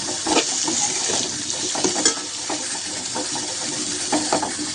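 Turmeric and red chili powder sautéing with coriander and curry leaves in a pan for village-style jowar rice: a steady close sizzle with wet, watery crackle and intermittent scraping stirs, no voices.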